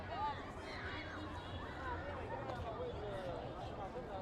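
A large crowd chatters at an evening fountain show in Paifong Square during National Day, a continuous distant babble of many voices with occasional brighter calls rising above the low murmur.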